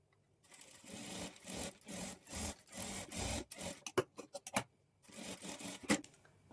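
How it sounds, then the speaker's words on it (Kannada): A sewing machine stitches piping cloth alongside a cord, running in bursts of rapid whirring needle clatter that stop and restart, close and fairly quiet, with no talking. "ಈಗ ಥ್ರೆಡ್ ಪಕ್ಕದಲ್ಲೇ ಸ್ಟಿಚ್ ಹಾಕ್ಕೊಳ್ಬೇಕು"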